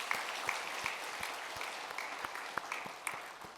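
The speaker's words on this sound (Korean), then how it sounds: "우리 하나님께 박수로 영광 돌리겠습니다." A church congregation at a Sunday service claps in unison, a sparse, fairly soft applause with individual claps standing out in a loose rhythm across the room.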